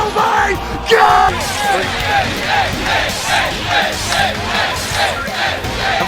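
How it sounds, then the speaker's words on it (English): A crowd at a Skullgirls fighting game match yells together in a loud, rhythmic chant of repeated 'AAAA' shouts, with rising and falling waves of cheering that fill the whole stretch. "We're gonna get some crowd interaction with the AAAAs!"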